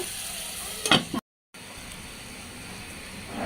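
Fish with potato and yardlong beans sautéing in a pan gives a steady broadband sizzle, with a brief louder clatter of stirring, then a short cut to silence before the even frying hiss returns.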